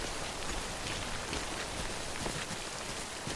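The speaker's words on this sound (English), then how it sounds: "I guess because it's raining, we'll have some BTs at some point." Steady rain in the video game Death Stranding, a dense even hiss of falling drops with occasional heavier patters, continuous and close, with no voices.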